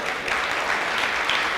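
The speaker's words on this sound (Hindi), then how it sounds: "आप इनके लिए एक बार ताली बजाते हो तो मेरे लिए 2 बार बजा देना" Audience applause at a Hindi kavi sammelan poetry recital in Pune, steady dense clapping from a crowd that holds loud and even for under two seconds, with no voices over it.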